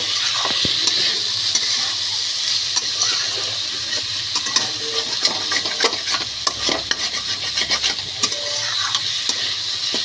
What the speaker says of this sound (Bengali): এটাকে এখন সুন্দর করে ভাজবো